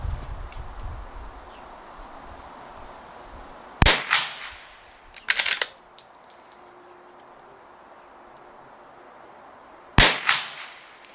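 A Ruger Precision Rimfire rifle fires three sharp shots, each followed by a brief echoing tail, spaced out over quiet outdoor ambience with a faint rustle between them.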